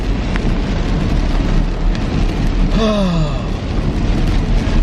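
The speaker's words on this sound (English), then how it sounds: "You see, it's like pouring down rain." Heavy pouring rain, a loud continuous hiss and patter close by, with a brief gasping voice sound partway through.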